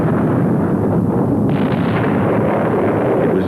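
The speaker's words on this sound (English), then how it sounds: "an explosion occurred 70 miles to the south near Naples that made the sounds of war meager by comparison" A violent eruption of Vesuvius near Naples roars as a loud, sustained blast and rumble that fills the whole stretch without pause, deep booming underneath and a brighter burst of noise joining partway through.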